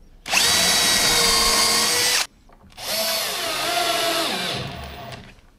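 A power drill drives screws into a homemade router table lift for a Bosch POF 1200 router, two loud close whirring bursts with a brief pause between them, the second slowing down as it winds off.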